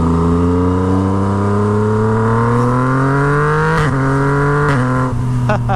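A Yamaha MT-09 motorcycle with a straight-pipe Toce exhaust revs loud and close, engine pitch climbing steadily through the gears, with sharp quick-shifter cuts crackling near the end.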